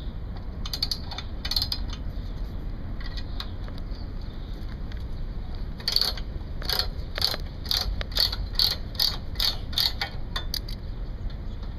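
Bolts and screws being taken off a guard during a pull cord repair, most likely with a ratchet: bursts of quick metallic clicking, sparse early and then a denser run of regular clicks toward the end, over a steady low hum.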